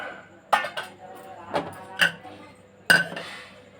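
A spoon scrapes and clinks against a bowl while chana dal vada batter is stirred, giving several sharp knocks spaced irregularly with softer scraping between them, close and fairly loud.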